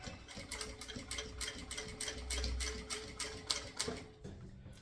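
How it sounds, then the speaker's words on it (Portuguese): Sewing machine slowly topstitching a synthetic crossbody bag on a finishing stitch setting, a steady run of close, even needle clicks that stops abruptly near the end. "Costura aqui devagar para ficar bem bonito no pesponto."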